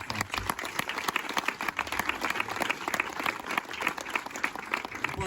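A crowd at an Italian political campaign rally applauds the list's candidates, dense and continuous clapping throughout with a steady, lively roar and no voices over it.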